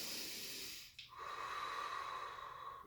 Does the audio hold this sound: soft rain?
no